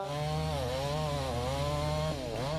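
Chainsaw running steadily at close range for the whole stretch, its engine droning loud and continuous with a slight wavering pitch and a brief dip near the end, with no talk over it.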